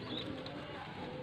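Racing pigeon cooing softly and continuously, a low murmuring coo close by over a steady background hum, with no voices heard.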